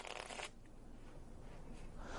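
A tapered stripper deck of magic-trick playing cards is riffle-shuffled together, a quick close flutter of cards followed by softer handling rustle and a second riffle at the end.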